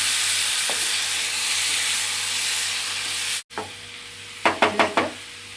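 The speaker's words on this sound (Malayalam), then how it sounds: "എന്നിട്ട് എല്ലാം കൂടെ നമുക്ക് യോജിപ്പിച്ച്" Cooked jackfruit stirred into a masala mixture in a pan, a steady sizzling hiss followed by a brief pause and then a quick run of four or five distinct scraping knocks of the spoon against the pan.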